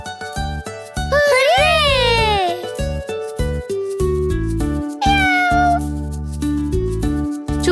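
Cartoon cat meowing in a children's animated story, two drawn-out, wavering meows over a bouncy music background with rhythmic accompaniment.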